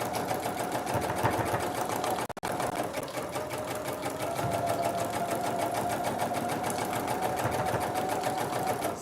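A sewing machine runs continuously, stitching into the outside seam allowance of a holiday project, with a steady close whir and one brief break near the start.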